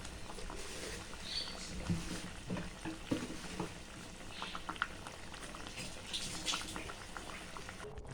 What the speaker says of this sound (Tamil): இந்த மஷ்ரூம் கொஞ்சம் நேரம் வேகணும், நம்மளுக்கு கொஞ்ச நேரம் கொதிக்கணும்